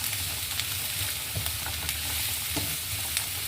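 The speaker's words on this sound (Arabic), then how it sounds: "من بعد غادي نحركو ونخليو هادشي يهبط لينا" Onions fry in a pan while being stirred for a chicken masala, a loud close sizzle with rhythmic scraping strokes of a spoon, no voices.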